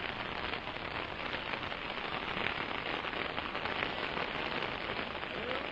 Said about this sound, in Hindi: देखिए काफी तेज बारिश आ रही है।